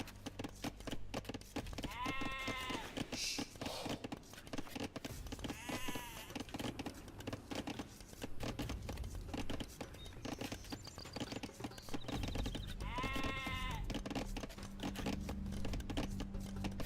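Sheep in Age of Empires II bleat three times at steady intervals, fairly clear above a busy bed of game ambience, soft clicking and tapping, with no voices.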